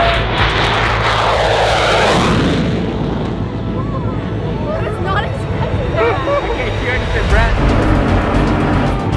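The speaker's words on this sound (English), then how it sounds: "Definitely the most intense takeoff I've seen." A loud jet engine roars steadily as an aircraft powers up and accelerates, with people talking and exclaiming over the constant engine noise.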